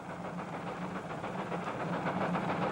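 Small train running along its track, a steady rumble with soft rhythmic clatter and hiss that holds at an even level throughout, with no voices.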